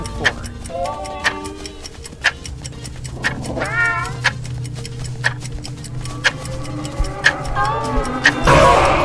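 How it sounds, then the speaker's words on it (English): Smile Cat, a cartoonish cat creature from the horror video game Zoonomaly, meows in repeated drawn-out wavering cries over a steady ticking clock, with sharp clicks scattered throughout and a brief burst of noise at the end. "Mr. Smile Cat."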